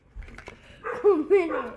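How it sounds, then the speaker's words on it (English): A household dog barks twice in quick succession, close by and fairly loud, breaking into a short stretch of low talking. "Excuse my dog that's deciding to now bark again."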